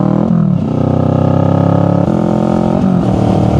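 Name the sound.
motorcycle riding on the road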